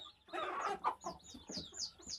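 Young Ko-Shamo chicks and chickens make a short burst of soft, close clucking and chirping calls, several in quick succession at moderate volume, with no talking.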